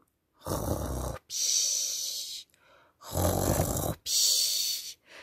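Two long, rumbling snores, each deep inhale followed by a hissing exhale, with a brief pause between the pairs; close and fairly loud, no talking.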